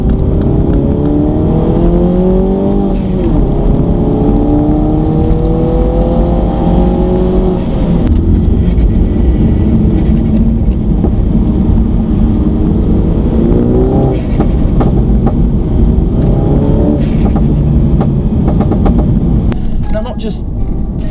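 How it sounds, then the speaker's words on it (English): A Mini Cooper S fitted with an induction kit revs repeatedly, its engine note rising and falling in loud sweeps with intake whooshes, while someone talks over it almost continuously. "it gives the car a whole load of cool noises, like all kinds of whooshes and turbo flutters and everything."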